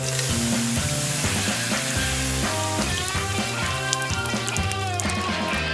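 A steady hissing sizzle of a snowman being melted plays over a bouncy musical backing throughout.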